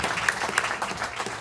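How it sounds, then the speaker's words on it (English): A convention gaming panel audience bursts into brief, moderately loud applause, a quick scatter of claps over about a second and a half. "A round of applause for Mr."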